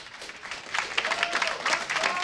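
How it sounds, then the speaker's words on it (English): Live audience applause at a StarCraft 2 WCS tournament match, a short, moderately loud burst of clapping that swells after a quieter opening and carries on steadily. "So another round of applause, please,"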